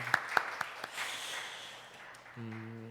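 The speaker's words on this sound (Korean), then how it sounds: "우리 같이 환영의 박수로 환영하겠습니다" Welcoming applause for visitors at a Korean Sunday church service starts with a few distinct, sharp claps, swells into a brief soft patter, then fades as a voice begins.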